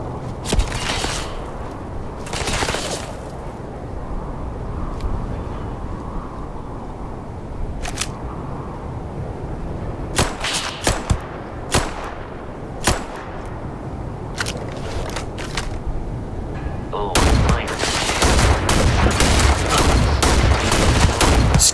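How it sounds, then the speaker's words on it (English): Gunfire in the space game Starfield: sharp shots crack out singly and in short bursts over a steady game-world rumble, with a dense, louder volley near the end. "Shooting at me."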